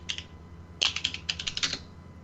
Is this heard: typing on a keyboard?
yes